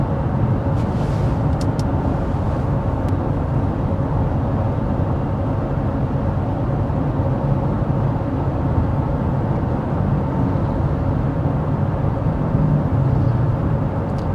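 Inside a 2024 Honda CR-V Sport-L cruising at 55 mph, a steady low road and tire roar fills the cabin with a soft wind hush over it, unbroken and even from start to finish, with no one speaking.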